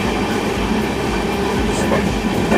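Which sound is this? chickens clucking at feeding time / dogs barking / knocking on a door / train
train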